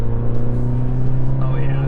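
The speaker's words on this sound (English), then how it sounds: "I want to see if these tires can get any louder." Steady road roar from the tires of a 2024 Chevy Colorado ZR2 AEV Bison pickup with the 35-inch tire package at highway speed, a constant loud drone with engine hum and a voice talking over it.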